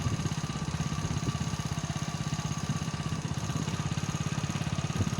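A motorcycle engine runs steadily at a close distance on a village road in Bagerhat, Bangladesh, with a rapid, even low-pitched thrum that holds constant throughout.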